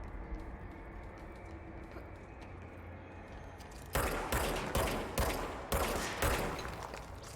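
Heavy gunfire from a big gun in the Control video game, starting after a few seconds of low ambient rumble as a series of about seven loud, evenly spaced blasts.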